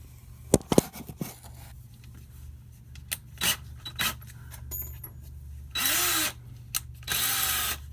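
A power drill bites into a rusted bolt in two sustained bursts near the end, preceded by scattered clicks, clanks and tool handling, all close and fairly quiet.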